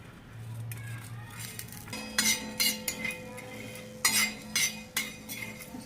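Coriander seeds being dry-roasted and stirred in a pan for a potato bhaji, with a spoon scraping and clinking against the metal in bursts of stirring.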